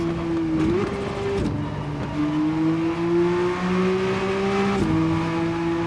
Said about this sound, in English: you got to make sure you don't go off the track though with these race cars